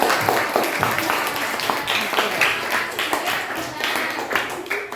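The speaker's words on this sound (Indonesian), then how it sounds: "terima kasih, tepuk tangan dulu" A classroom group of teachers in a coaching session claps after a presentation, a brisk patter of hands with some taps and background chatter, moderately loud and fairly sparse.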